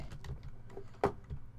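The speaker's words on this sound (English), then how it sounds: "My frantically tapping the keyboard isn't helping any" Computer keyboard tapped in quick, uneven bursts during a Minecraft dropper game, the keystrokes soft and close, with one sharper louder clack near the end and no talking.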